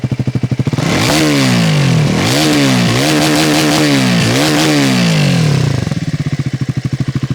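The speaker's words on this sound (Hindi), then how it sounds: "तो भैया एग्जॉस्ट के शौकीनों के लिए पेश है इसका एग्जॉस्ट नोट।" A Triumph Scrambler 400X motorcycle exhaust revs loudly up and down in repeated surges, a throaty mechanical roar that settles back to a pulsing idle at each end.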